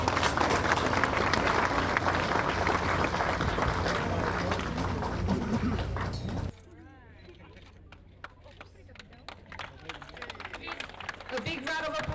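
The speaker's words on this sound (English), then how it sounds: "A big round of applause, ladies and gentlemen." Audience at a World Maritime Day celebration and careers expo giving a loud round of applause that cuts off abruptly partway, leaving a quieter room with scattered claps and murmuring voices.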